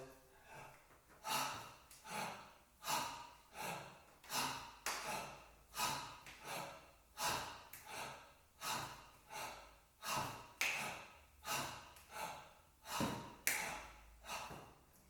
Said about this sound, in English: So, mouth breathing, in,